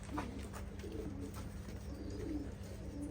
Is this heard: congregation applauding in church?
no